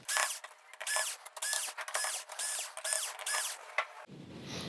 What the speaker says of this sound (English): we are going to get the silver screws removed here from this plate that is covering the T-Con board